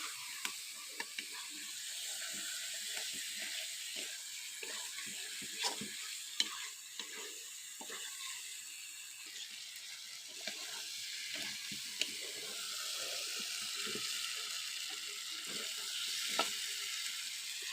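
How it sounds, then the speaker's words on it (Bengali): Chicken pieces with potatoes sizzle steadily in hot oil in a pan while being stirred for a Bengali chicken curry. The frying crackles evenly throughout, with scattered utensil scrapes and clicks and no talking. "মাংসটা ভালো করে কষলাম"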